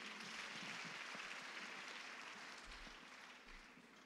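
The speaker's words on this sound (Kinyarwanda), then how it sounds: "Hari icyo bitwaye ngo dukomere Imana amashyi tuyishimire." A church congregation clapping for God, a sustained dense applause from many hands, loud and even, fading slightly toward the end with faint low thumps underneath.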